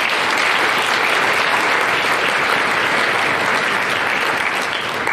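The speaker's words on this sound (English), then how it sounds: "if we could please give them a round of applause" Concert audience applauding at a high school band performance, a dense, steady wash of clapping throughout, loud and continuous with no speech over it.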